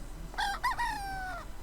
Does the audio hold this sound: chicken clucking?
yes